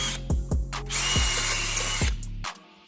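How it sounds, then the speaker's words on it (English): A power drill bores holes in a fiberglass boat hull, short whirring bursts that rise in pitch, then one sustained grinding run through the material before the motor cuts off. "I'm gonna finish drilling those out."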